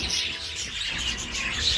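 Budgies in an aviary chirp and twitter in a continuous high, busy chatter, several birds overlapping at moderate distance.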